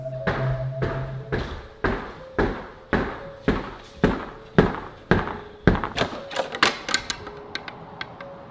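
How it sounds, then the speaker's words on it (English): Knocking on a front door heard from a played video: a steady series of loud, hard knocks about every half second, speeding into a quicker, denser flurry of raps near the end. "he started hearing knocking coming from the front door"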